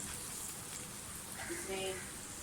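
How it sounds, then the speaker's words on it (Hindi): Carrots and green chillies fry in a pan with a constant soft hiss and crackle like light rain, and a few faint tonal squeaks rise briefly near the end. "गाजरें और हरी मिर्चें जैसे फ्राई होती हैं"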